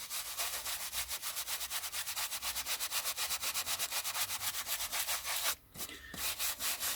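Vintage U.S.A. paperback books are rubbed clean with quick, regular back-and-forth strokes, a close, dry scuffing rhythm that pauses briefly near the end before resuming.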